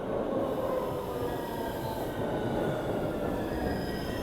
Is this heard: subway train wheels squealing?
yes